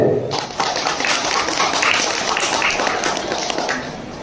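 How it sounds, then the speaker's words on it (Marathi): An audience at a school annual prize ceremony claps for the teachers, a steady crowd of applause sustained for several seconds, fairly loud and close. "शिक्षकांसाठी आधी टाळ्या होऊन जाऊ"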